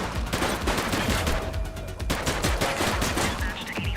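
Dense, rapid gunfire fills a shootout in the police game The Precinct, with overlapping shots crackling continuously and loudly throughout; no one talks.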